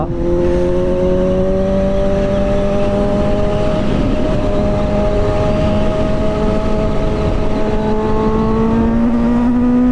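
Loud, continuous engine note of a Suzuki GSX-S750 motorcycle ridden through a curve, steady tones that drift slowly lower then rise, with wind roar throughout and no talk.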